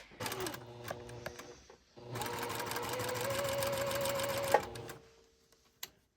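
A sewing machine test-stitching a bra runs in two close, loud bursts, a short run and then a longer steady whir of rapid needle strokes, broken by a brief pause and followed by a couple of clicks.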